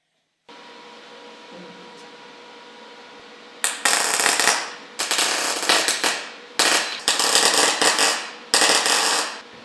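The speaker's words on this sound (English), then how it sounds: "I'm doing a butt weld along the joint of this panel, and plug welds along the bottom edge" Bursts of MIG welding on a rusty steel sill panel of an Alfa Romeo GTV, butt and plug welds: after a low hum, five loud crackling, buzzing runs of one to two seconds each, separated by short pauses.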